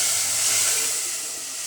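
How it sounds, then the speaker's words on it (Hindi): Ground spice paste hitting a hot pan with cumin gives a loud, steady, broad steamy hiss, close up, fading slightly over under two seconds, with no talk. "अब जो हमने मसाला पीसा है वो इसके अंदर डाल देंगे।"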